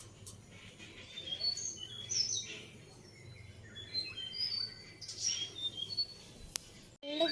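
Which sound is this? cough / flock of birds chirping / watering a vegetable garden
flock of birds chirping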